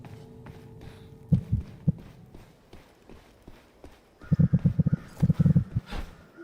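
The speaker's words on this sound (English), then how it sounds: "I've never heard the heartbeat that fast." In the extraction game Mistfall Hunter, a heartbeat sound effect thumps loudly. It starts with a few spaced double beats, then speeds into rapid, heavy pounding bursts.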